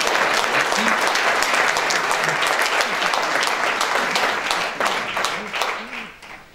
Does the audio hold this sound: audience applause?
yes